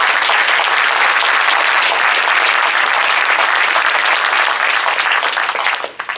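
A large crowd applauds steadily and loudly to welcome a university chancellor at a service summit, the dense clapping sustained throughout before tapering off at the very end.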